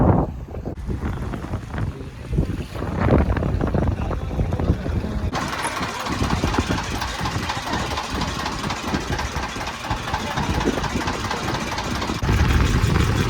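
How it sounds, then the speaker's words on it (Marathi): A steady mid-pitched engine drones aboard a small ferry boat crossing near Dabhol, Dapoli, with wind buffeting the microphone throughout. "मित्रांनो बोटीमध्ये बसलो आम्ही इकडे लकी दादा आणि आपले मित्र सगळे"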